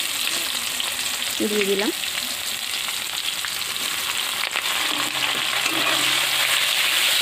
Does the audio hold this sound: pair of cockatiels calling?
no